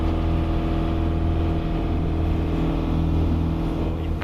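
Boat engine droning loudly and steadily on the sea off a Maldives island during a fishing trip, a close, constant low rumble with no clear drop-off as the boat stops.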